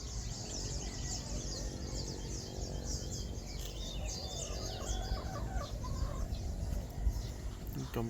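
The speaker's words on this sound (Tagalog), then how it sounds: "Yung mga manok natin nandyan." Rhode Island Red chickens cluck and chatter in a busy farm flock, several birds overlapping continuously amid steady background noise, fairly close.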